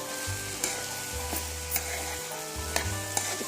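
Okra curry stirred in a hot pan, a steady sizzle broken by a few scraping clacks of the spoon against the pan, close and clear with no voices.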